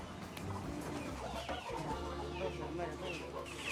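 Chickens cluck and a rooster calls amid the steady hubbub of a busy animal market, the birds fairly close against a constant bed of crowd noise and distant murmuring voices.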